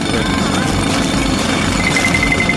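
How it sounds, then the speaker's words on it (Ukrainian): A jackhammer pounds cookies into crumbs during a kitchen cooking challenge, giving a loud, continuous rattling hammering under talk throughout. "У цьому мені допоможе відбійний молоток."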